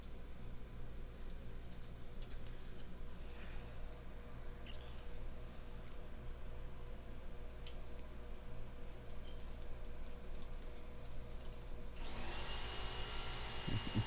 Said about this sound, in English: My air compressor in the background